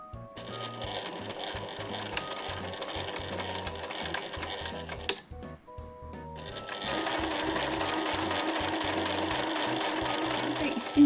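A sewing machine stitches a side pocket onto a Marimekko fabric gathered skirt, running in steady mechanical bursts with a brief pause midway before a louder, continuous run resumes close by.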